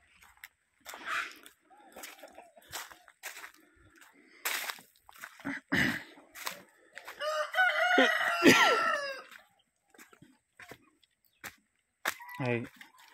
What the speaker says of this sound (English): there's some chickens